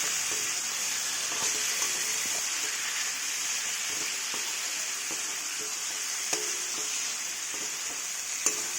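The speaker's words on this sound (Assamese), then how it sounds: "প্ৰথমতে মাংসখিনি ধুনীয়াকৈ ভাজি ল'ব লাগিব।" Small pieces of meat fry in a pan with turmeric and onion, giving a steady close sizzle with occasional stirring clicks and scrapes throughout, no voices.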